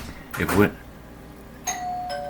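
A doorbell in a home workshop where a model ship is being built gives two clear chimes near the end, after a short burst of a voice.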